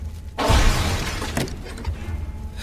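A wooden wardrobe falls in a puppeteer's house and crashes down, a sudden loud impact with rattling debris that fades into a lingering rumble.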